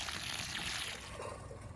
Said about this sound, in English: now I'm just putting water on it and mixing it right in the hole